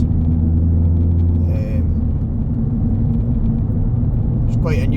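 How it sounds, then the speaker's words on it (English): A car engine rumbles loudly and steadily up close while the vehicle is driven through its gears, a deep continuous drone with brief higher tonal sweeps near the start and end. "You can hear what she sounds like going through some of the gears."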